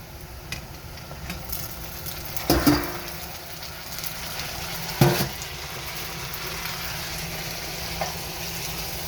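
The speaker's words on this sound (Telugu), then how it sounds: "వంకాయ ఒక 2-3 నిమిషాలు వేపిన తర్వాత" Brinjal frying in a pan for chutney gives a soft, steady sizzle, with a few sharp clinks of stirring against the pan near the middle.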